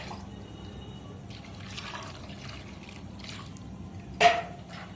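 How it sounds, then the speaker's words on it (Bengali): A little water poured into a pressure cooker holding whole potatoes with salt and turmeric gives a faint, steady trickle that ends with a short, sharper splash near the end; quiet and close, no voices. "অল্প জল দিয়েই দিলাম।"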